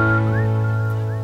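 A melodic whistled tune with rising and falling notes, sounding over a steady low hum of background music.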